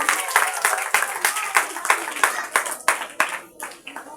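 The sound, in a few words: audience clapping for a child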